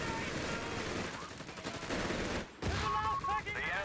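Heavy machine guns firing in a Company of Heroes 3 1v1 match, dense rapid bursts forming a continuous rattle with a short gap near the end, then more fire, with speech over the top.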